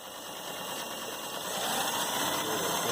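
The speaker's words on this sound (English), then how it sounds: "Now I'm going to run it at full speed just so you can see how fast it'll go." A Kenmore Tri-Span 88 sewing machine runs fast in a steady, dense whir with a high mechanical hum, close and continuous, rising slightly in loudness as it speeds up.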